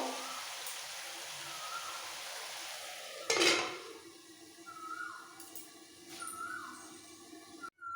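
A lid clanks onto a pot of chicken roast being cooked down in its own juices, one sharp metallic hit followed by a faint sizzle and small rattles, with a final click near the end.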